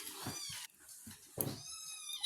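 Two plaintive kitten meows, high and harmonic, each drawn out, with short quiet gaps and faint background sounds between them.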